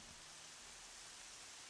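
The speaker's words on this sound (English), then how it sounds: "It's so hard to see in the rain." Steady, soft rain hiss in the video game Horizon Zero Dawn, a faint, even wash of noise with no voices over it.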